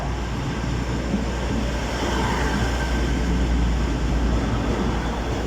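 An East Midlands Railway service to Worksop at Nottingham station, its steady low rumble and broadband rail noise holding loud and unbroken throughout, with no talking.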